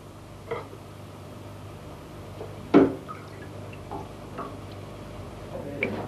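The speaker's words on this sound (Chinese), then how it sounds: "用完水之後就記得閂返緊個水喉，唔好睇少啲滴水啊" Water drips slowly from a tap, single distinct drops landing at irregular intervals a second or so apart, one louder splash among them, quiet and close in an otherwise hushed room.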